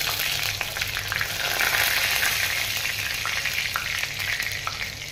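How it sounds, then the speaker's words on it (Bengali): Nigella seeds, curry leaves and green chillies sizzle in hot oil for a Bengali cauliflower fry, a steady close crackle and hiss with brief stirring scrapes and no talking. "আর একটু কালো জিরে দিলাম। অল্প কয়টা কারি পাতা দিলাম।"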